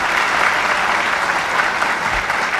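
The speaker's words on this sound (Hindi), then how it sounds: "एक बार फिर से जोरदार तालियों के साथ" Loud, dense applause from a seminar audience at a college, a steady wash of many hands clapping together that holds evenly from start to finish with no voices.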